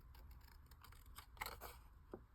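Small scissors snip through paper in a few quiet, crisp cuts at close range, with faint rustling between them.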